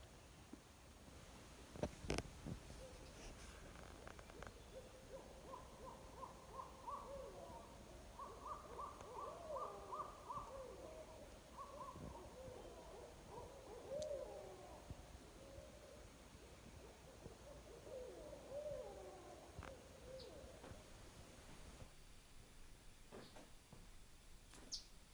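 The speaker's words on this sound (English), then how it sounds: "it sounded like they were having a party, many owls somehow communicating with each other" Many barred owls hooting together at night in the Vermont woods, a lively chorus of overlapping calls that rises and falls for most of the stretch, moderately distant over a steady outdoor hiss.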